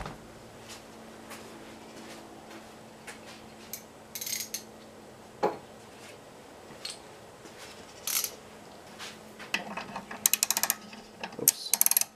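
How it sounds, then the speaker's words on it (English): A ratchet working loose an Excell XR2600 pressure washer pump cover, with scattered quiet clicks and short bursts of ratcheting, growing busier and louder toward the end. "Maybe a ratchet."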